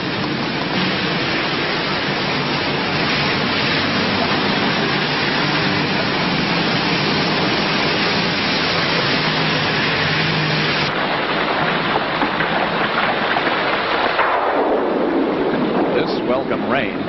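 Steady heavy rain pours down on a wet night outside a McDonald's on a town's main street, a dense unbroken hiss that holds loud and constant before easing slightly toward the end; no distinct thunder stands out.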